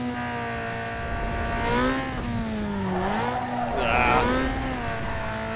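Engine of a tuned street car in Need for Speed Underground 2 revving and climbing in pitch as it accelerates, steady and loud with rising harmonics, a brief tire squeal near the end.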